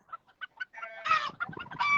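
A flock of chickens clucks up close in short, repeated bursts, building into a louder, denser cackle by the end.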